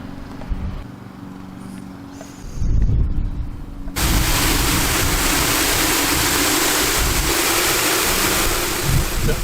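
Water spraying steadily onto a Ford Fairmont Fox body sitting just outside a garage bay, a loud continuous hiss that starts abruptly after a few seconds of quieter handling noises and carries on to the end.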